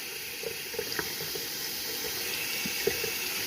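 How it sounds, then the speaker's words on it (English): Hot water runs steadily from a faucet newly plumbed to a Rheem 30-gallon water heater in a 1979 manufactured home, a constant close hiss with a few faint clinks and drips. "I got water to my faucet, and shortly this will be hot."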